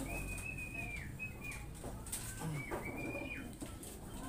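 Racing pigeons being released for training, soft wing flaps and flutters mixed with a few coos over a low steady background rumble, with faint high whistling tones drifting through.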